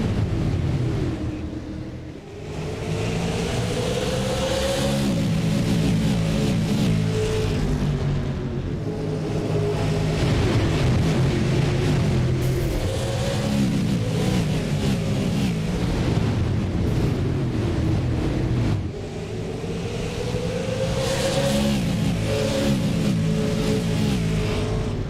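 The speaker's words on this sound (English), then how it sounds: "Listen to the sounds of the engines in Pensacola, Florida." Race car engines in a racing video game at a Pensacola, Florida speedway, droning loudly and continuously with rising revs and pitch sweeps as cars pass, in a thick layered roar without talk.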